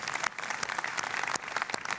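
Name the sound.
audience applause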